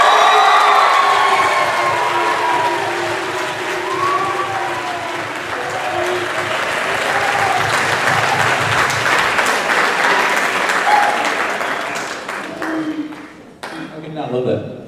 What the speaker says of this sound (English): Please help me give a warm round of applause